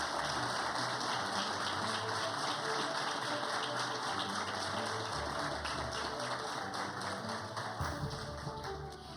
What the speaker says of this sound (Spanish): Un fuerte aplauso para los posesionados.